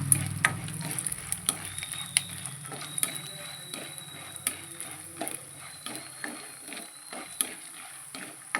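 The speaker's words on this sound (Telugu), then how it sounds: "బాగా ఫ్రై అవ్వాలి ఇవి ఫ్రై అయినాయి" Urad dal and chana dal fry in hot oil with a light sizzle behind them, punctuated by repeated sharp clicks and scrapes of stirring in the pan at an irregular rhythm.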